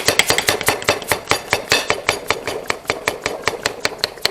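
A hand pump clicks in a fast, steady rhythm of sharp, close strokes as air is pumped out of a bottle of extra virgin oil in a kitchen.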